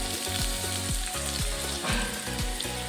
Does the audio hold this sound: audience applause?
no